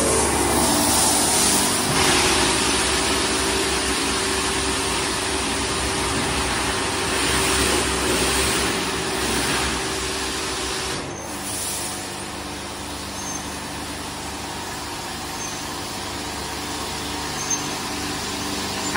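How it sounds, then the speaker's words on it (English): A high-pressure rinse sprays steadily inside a Mark VII AquaJet GT automatic car wash in Wausau, a broad hissing wash of water under a low machine hum that dips and shifts partway through. "High pressure rinse, I believe."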